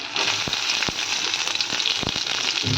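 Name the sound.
onions sautéing in a pan until golden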